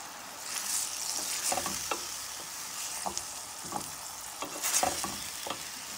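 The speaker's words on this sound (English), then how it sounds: "So now I'm gonna add my onions, and we're gonna cook the onions a little." Onions cooking in a pan, a steady close sizzle with repeated soft scraping strokes as they are stirred in an uneven rhythm.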